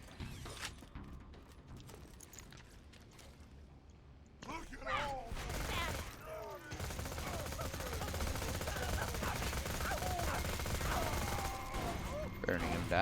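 Rapid gunfire with ricochets rattles in Borderlands 2, played as Gaige, in dense overlapping bursts with mechanical clicks and pings, loud and continuous after a quieter opening.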